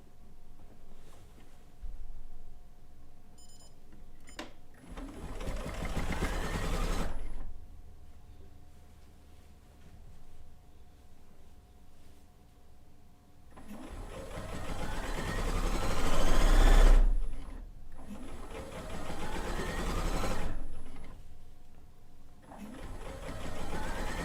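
A sewing machine stitches binding around a quilt corner in several bursts of fast mechanical whirring, each separated by quieter pauses, close and clear.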